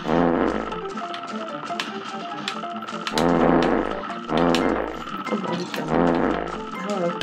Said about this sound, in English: Zoom in on that in editing, and add a funny fart noise.